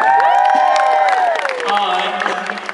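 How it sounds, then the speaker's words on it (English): An audience at a Piff the Magic Dragon comedy magic show cheers and applauds, with whoops and shouts rising over a dense crowd roar that eases slightly toward the end. "Ladies and gentlemen, a round of applause for our princess this evening"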